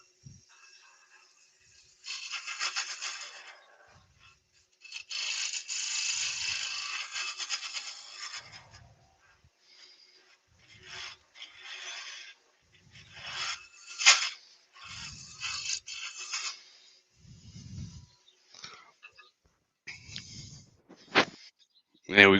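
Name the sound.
round nose carbide cutter cleaning up wood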